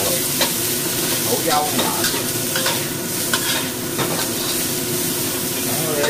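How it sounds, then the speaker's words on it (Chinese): Chicken with fermented black beans stir-fried in a wok, a steady close sizzle with repeated scraping strokes of the spatula, while a voice speaks briefly over the cooking. "豆豉雞落去啊，又炒一炒佢"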